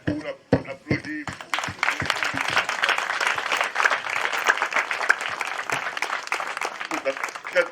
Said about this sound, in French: Et joignez-moi à moi pour l'applaudir.